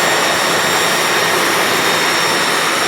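A Jeep 5.0 stroker engine idles just after its first start, giving a steady, loud, continuous broadband roar that holds even throughout with no one talking.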